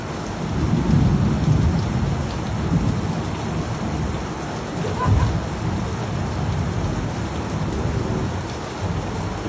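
Heavy rain pours steadily in a continuous close hiss, with low rumbles of thunder swelling twice beneath it, loud and unbroken throughout.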